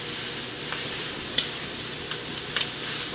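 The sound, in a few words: meat flipped and patted down, frying in a pan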